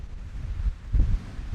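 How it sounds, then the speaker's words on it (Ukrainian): Strong mountain wind near a summit in the Carpathians buffets the microphone in low, rumbling gusts that swell and ebb, with no voices. "І тут нереально сильний вітер."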